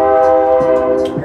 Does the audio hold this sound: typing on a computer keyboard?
no